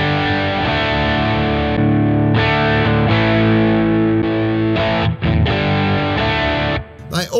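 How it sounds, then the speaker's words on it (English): Electric guitar chords through a Super Overdrive model based on the Boss SD-1, in a Sonicake Matribox 2, ring out thick and gritty for several seconds, a brief choppy break near the end, with no voices. "Super Overdrive is based on the Boss SD1."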